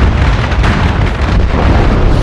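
A grenade blast in the shooter game MAG roars loudly and continuously, a dense sustained explosion rumble with no pauses, close and overwhelming.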